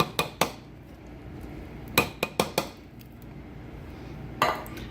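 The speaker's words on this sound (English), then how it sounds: "Dump everything into the slow cooker. Just pile it in." Drained canned black beans and jarred salsa dumped into a slow cooker, heard as a few sharp clanks and knocks of cans and utensils against the pot, in two quick clusters with a last one near the end, otherwise quiet.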